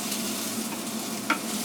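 Ginger and garlic frying in a pan, a soft continuous sizzle with light stirring scrapes, quiet and close, with one brief clink of a utensil near the end.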